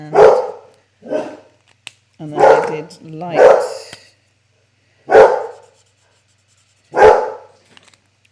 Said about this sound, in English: Oh my goodness, I'm so sorry about my dog.